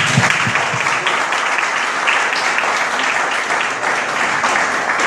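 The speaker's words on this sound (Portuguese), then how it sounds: "você poderia dar uma salva de palmas pela vida dele" A church congregation in Cabo Frio applauds loudly for Pastor Micael, a close, continuous crackle of many hands clapping without talk.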